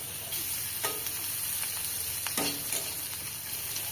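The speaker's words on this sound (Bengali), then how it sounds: "পেঁয়াজটা একটু ভাজা হোক" Onions frying in oil in a village kitchen, a steady close sizzle with a few sharper crackles and spatters, no voices.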